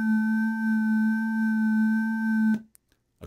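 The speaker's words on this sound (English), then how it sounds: "Here's a bell." A steady synthesized bell tone preset in Adobe Audition 3.0 with bright, ringing overtones holds for a couple of seconds, then cuts off abruptly, followed by a few faint clicks.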